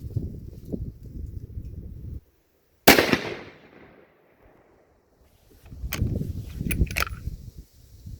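A single sharp, loud rifle shot from a Mossberg Patriot Predator in 6.5 Creedmoor, followed by a fading echo, with brief handling or movement sounds before and after.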